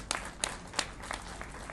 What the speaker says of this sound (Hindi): एक बार सभी लोग ताली बजाकर स्वागत करें।